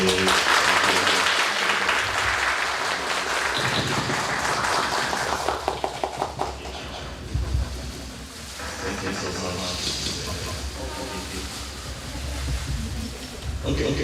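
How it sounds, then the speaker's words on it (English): An audience applauds speakers at an AI and app innovation awards ceremony, a broad sustained wash of clapping that thins and becomes patchier toward the end, with voices mixed in. "let's have a applause for all our great speakers today."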